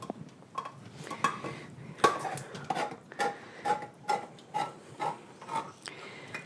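A spoon scrapes and knocks against a pot of chili being stirred, about a dozen rhythmic strokes that come up close and clear, with no talking.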